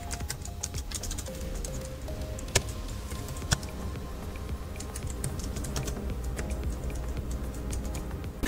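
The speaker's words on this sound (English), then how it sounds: "I'm going to type in the rest of my prompt." Steady, quiet clicking of a computer keyboard as a prompt is typed, with quick uneven keystrokes and a couple of sharper taps, no talk.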